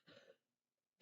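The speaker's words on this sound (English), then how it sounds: "I really apologize for all the coughing." A single sharp cough bursts out at the very end after near silence, preceded by a faint breathy throat sound.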